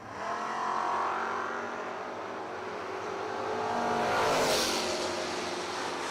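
Oldsmobile drag car launching and accelerating down a dragstrip at a footbrake bracket race, a loud sustained engine roar that swells and recedes with distance, heard from the track side with no talk.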